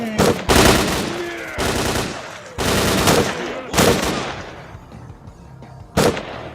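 Zombified stalkers in S.T.A.L.K.E.R.: Clear Sky shoot in several loud, close bursts of gunfire, each lasting about a second, with short lulls between them and one last sharp burst near the end.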